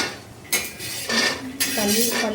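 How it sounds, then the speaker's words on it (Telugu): Peanuts frying in a pan, three bursts of clinking and scraping as a metal spoon stirs them against the pan, close and fairly loud with faint voices in between. "ఇక్కడ నేను ప్యాన్ పైన పల్లీలు వేసి ఫ్రై చేస్తున్నాను"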